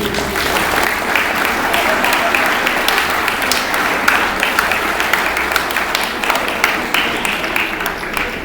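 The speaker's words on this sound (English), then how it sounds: "can we have a big round of applause for the outgoing team?" A school audience at a swearing-in ceremony in Bhubaneswar applauds the outgoing student team, with dense, steady clapping from a large crowd that holds at full strength throughout.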